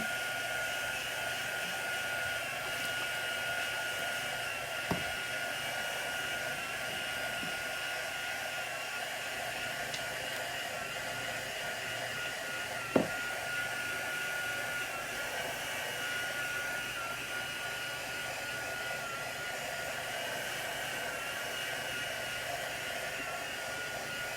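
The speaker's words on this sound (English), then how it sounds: "I'm going to use my heat gun again to dry it." A heat gun blows hot air steadily to dry chalk paint, a constant roaring whoosh that holds an even level throughout with two brief sharp clicks and no talking.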